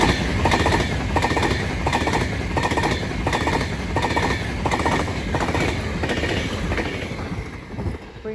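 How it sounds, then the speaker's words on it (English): An Avanti West Coast class 390 train, unit 390-115, passes at speed through Crewe station on the West Coast Main Line, London Euston to Glasgow Central, with loud sustained rumble and rhythmic wheel clatter close by, fading at the end. "Passing through now is a Advance West Coast service from London Euston to Glasgow Central."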